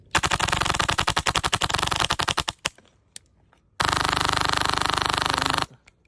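Airsoft gun fitted with a T238 RGB tracer unit firing BBs in full-auto: a long burst of rapid, sharp shots, a few single pops, then a second loud sustained burst, close and with no talking.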